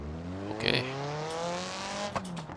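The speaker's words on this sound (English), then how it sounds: "This one is evidently a 4-cylinder." Four-cylinder engine of a Sherrier Ardente coupe in the BeamNG driving game, revving steadily with a buzzing, harmonic-rich tone that slowly sweeps, with a brief tire-squeal-like burst and a few sharp clicks near the end.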